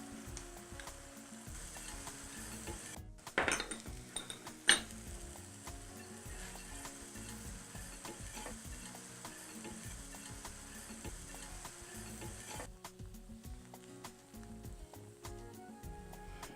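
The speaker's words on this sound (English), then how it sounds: "And then we're going to add our orange marmalade and apricot preserves and give it a whisk." Orange marmalade and apricot preserves being whisked into a reduced wine sauce in a hot pan for orange apricot chicken with thyme and rosemary, a steady close sizzle with a few sharp clinks of the whisk near the start, continuing alone without talk.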